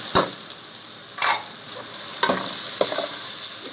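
Cumin seeds, five or six black peppercorns and a small piece of cinnamon fry in hot oil for chicken bhindi masala, giving a steady bright close sizzle broken by four sharp crackling bursts at irregular intervals, with no talking.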